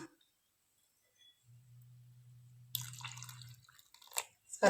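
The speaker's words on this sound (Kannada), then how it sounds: "ಈಗ ಹಾಲು ಹಾಕೊಳ್ಳೋಣ" Milk poured into a mixed panchamrita preparation gives a faint, steady liquid trickle with soft drips and small splashes near the end, quiet and close with no talking.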